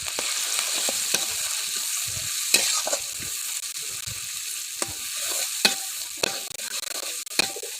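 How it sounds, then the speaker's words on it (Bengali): Turmeric and salt are stirred and lightly fried in a hot pan for a bitter gourd dish, with a continuous close sizzle broken by sharp spatula scrapes and clicks at irregular intervals. "এবার আমি ভালো করে নাড়াচাড়া করে এটিকে হালকাভাবে একটু ভেজে নেব।"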